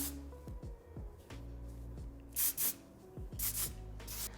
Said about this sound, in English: I'm gonna spray a little bit of the Kenra Perfect Medium Spray 13